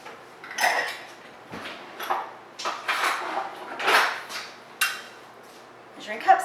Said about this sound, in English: grabbing some measuring cups